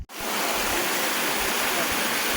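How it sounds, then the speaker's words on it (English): A series of cascading forest waterfalls roars as a steady, dense rush of water, continuous and close throughout with no break or voices. "We arrived at our waterfall destination on this trek. Kind of a beautiful series of cascading falls."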